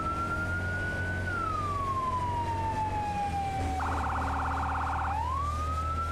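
A fire engine siren in the Firefighting Simulator game wails loud and close, its pitch sliding slowly downward, then switching to a rapid yelp before rising back into a steady wail, all over a constant low engine drone.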